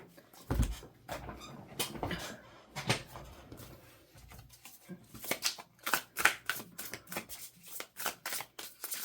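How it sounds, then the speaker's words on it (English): Tarot cards shuffled by hand up close, irregular bursts of soft riffling and slapping card sounds with quiet pauses between. "Let me just make sure that I'm recording while I'm shuffling here."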